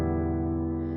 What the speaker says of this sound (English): If you were to just play all open strings on a standard tuning guitar